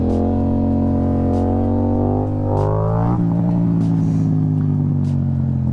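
A motorcycle engine revs and accelerates to lift into a wheelie at low speed, 5-10 mph, its loud, close harmonic drone climbing in pitch, then dropping to a steady lower note after about three seconds.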